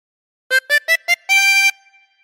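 A 24-hole tremolo harmonica plays a phrase of This Old Man: four short wavering notes followed by one longer held note, clear and close with no other sound.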